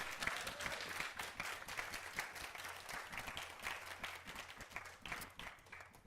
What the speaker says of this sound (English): rock star, round of applause for Sheryl Green. Give it up.